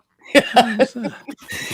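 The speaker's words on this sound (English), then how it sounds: "I had to excuse myself because I started coughing" A short burst of several harsh coughs, close and fairly quiet, followed by a few throaty sounds.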